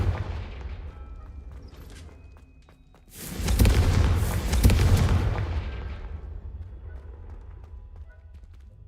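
A Confringo blasting spell in Hogwarts Legacy sets off a deep booming explosion that swells suddenly, rumbles heavily for a couple of seconds, then slowly fades into a quieter tail.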